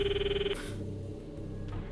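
A phone rings in Steins;Gate 0, a short electronic trill that stops after about half a second, followed by a faint muffled hum.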